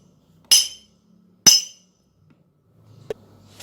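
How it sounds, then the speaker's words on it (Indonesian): A metal spoon strikes a glass twice, a second apart, each a bright ringing clink that fades quickly, followed by a softer dull tap; quiet background, no talking. "Bunda akan melakukan percobaannya menggunakan gelas kaca"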